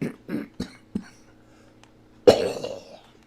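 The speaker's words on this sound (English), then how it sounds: "Coughing again, folks." Several short coughs in a quiet room, then one louder, harsher cough with a rough trailing rasp, all close to the microphone.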